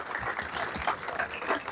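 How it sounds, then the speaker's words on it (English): An audience applauds Gedalia Fencer at a talk, a faint, steady patter of clapping from a modest crowd with no voices over it. "Please, everybody, a big round of applause for Gedalia Fencer."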